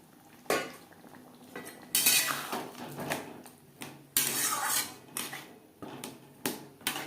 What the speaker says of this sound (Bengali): মশলা ও পেঁয়াজের সাথে আলু বেশ ভালো করে মিক্সড করে দেবো।